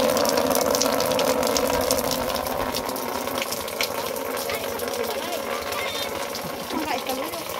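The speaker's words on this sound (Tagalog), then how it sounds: "Tanawa ang umagas sa tubig nga gikan sa ilang atop nga silupin lang." Rainwater pours from a roof after a typhoon in Cebu, a continuous gushing splash that stays steady and close, with someone talking over it.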